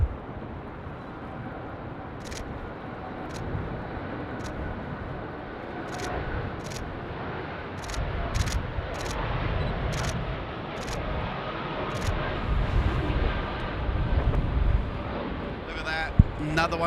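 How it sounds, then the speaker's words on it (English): A Jetstar airliner bound for Denpasar rolls for takeoff on runway 34 left at Sydney Airport, a distant, rising engine roar building steadily beneath someone talking excitedly. "The flight off to Denpasar is now finally rolling."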